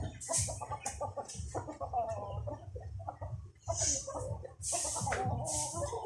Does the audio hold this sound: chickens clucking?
yes